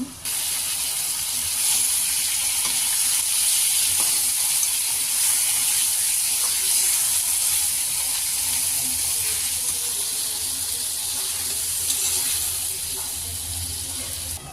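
Marinated eel fish frying in oil with lightly browned onions, giving a steady, close sizzling hiss that holds at an even level throughout.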